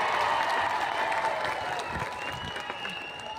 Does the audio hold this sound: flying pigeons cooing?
no